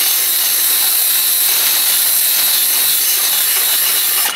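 A small rotary burr grinds rust out of a ball joint socket on a Ford Explorer Sport Trac, giving a loud, steady, high-pitched whine and grinding hiss that runs unbroken and close up, with no talking.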